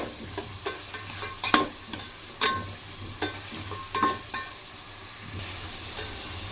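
Onions frying with salt in a pan for Muslim wedding-style chicken biryani, with a steady low sizzle and several clattering stirs of a spoon against the pan, moderately close with no talk.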